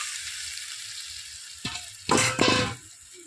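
Quiet simmer, then a sudden loud hissing sizzle as water is poured onto potatoes frying in oil, with two strong bursts of spitting crackle that quickly settle back down.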